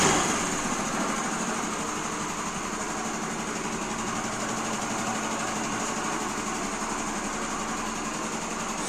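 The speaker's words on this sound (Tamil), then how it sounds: "வண்டியெல்லாம் ரொம்ப சூப்பராக வண்டி ஸ்டார்ட் ஆகிடுச்சு" An old Honda Activa scooter engine idling steadily, a continuous buzzing high-pitched hum heard close and alone throughout.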